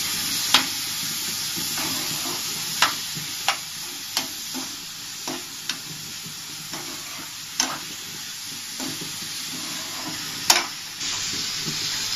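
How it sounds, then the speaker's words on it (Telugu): Onions frying with salt and turmeric for a dry fish egg curry, a steady soft sizzle broken by a dozen sharp scraping knocks of a spatula stirring the pan, close and without talk. "చూసారుగా ఎలా వేగుతున్నాయో."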